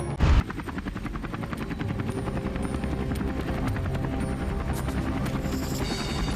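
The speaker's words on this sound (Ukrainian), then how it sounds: "У небі над Курською областю український гелікоптер Мі 8 працює окрема бригада армійської авіації ЗСУ." A Ukrainian Mi-8 military helicopter flies over the Kursk region, its rotor throbbing in a steady, loud beat that runs unbroken through the whole clip with no voices.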